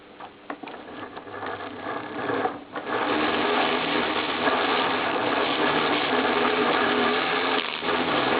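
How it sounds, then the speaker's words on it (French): A universal joint rubbing against a nut as a mechanism turns, giving a steady loud whirring, grinding drone with faint rhythmic clicks, briefly faltering before settling into a constant run. "vous entendez que le cardan touche l'écrou"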